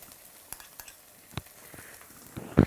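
Tomato paste sauce cooks in a pan with a soft, steady sizzle, broken by a few scraping stirs and a louder clatter at the end.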